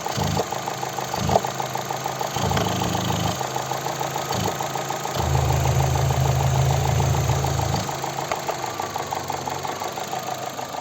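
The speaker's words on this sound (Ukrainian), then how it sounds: "Ось така робота двигуна." A 2009 Opel Zafira Cosmo's 1.8 MPi 140 hp engine idles steadily with a rhythmic low knocking chug, growing slightly louder for a few seconds midway before settling back.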